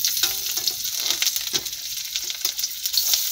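Onion and garlic frying in a pan for a bhindi masala, a crackling, spitting sizzle with scraping stirs, close and busy throughout without speech.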